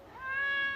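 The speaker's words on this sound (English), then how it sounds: "it's just a cat who has a funny meow" A single short cat meow, slightly rising and nasal, heard close and fairly quiet with no talking.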